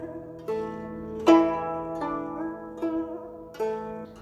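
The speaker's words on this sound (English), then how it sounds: "So this is the sound of the guzheng." Plucked guzheng notes ring out one at a time, five or six bright strikes with long sustaining decays, played slowly and alone.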